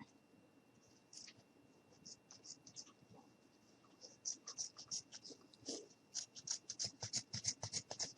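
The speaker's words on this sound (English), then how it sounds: "grab my scissors, and we're just going to cut." Quiet, crisp scissor snips, close by, start sparse and build into a quick run of rhythmic cuts.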